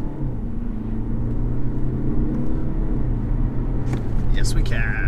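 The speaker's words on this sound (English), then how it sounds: "See if we can get to 60 before the corner." A 2020 BMW 520d estate accelerating hard from a launch, its engine a steady, strong droning rumble throughout, with a few brief sharp squeaks or chirps near the end.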